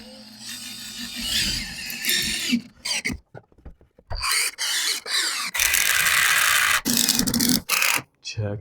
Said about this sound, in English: Now we can screw this in here through the side.